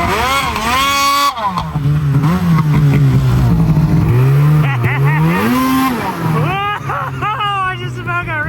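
A snowmobile engine revving hard through snow about two feet deep during a blizzard, rising and falling in pitch with surges of throttle, loud and close, with voices calling out over it.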